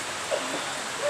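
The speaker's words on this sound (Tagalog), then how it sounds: "Lakas ng ulan." Heavy rain pours down in a steady, even hiss of broadband noise, close and continuous, with a faint brief voice-like tone briefly audible beneath it.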